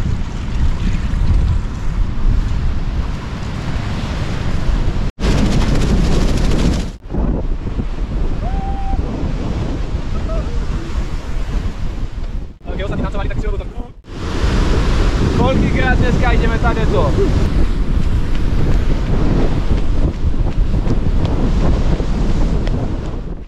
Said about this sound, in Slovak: Dnes trošku fúka.